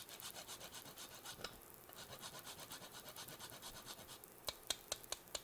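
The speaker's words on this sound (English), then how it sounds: "these microplanes are awesome for so many things. Whether it's grating nutmeg or grating some garlic in" Nutmeg rasped on a microplane grater, close and quiet, with a steady run of rhythmic scraping strokes that turn into a few sharper, distinct scrapes near the end.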